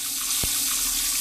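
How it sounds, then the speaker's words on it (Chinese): A household tap in a Kaohsiung mountain village pours muddy brown water into a sink basin, producing a loud, steady rushing splash with one brief knock partway through. "流出来的自来水全部都是这样咖啡色的样貌，像是泥水从水龙头不断流出来"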